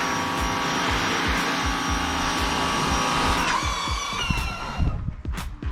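Pressure washer running at a house, a loud steady high-pitched motor whine and spray hiss that holds, then shifts and thins out toward the end, with scattered knocks and clatter.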